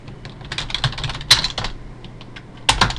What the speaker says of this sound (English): I'll type in Windows 7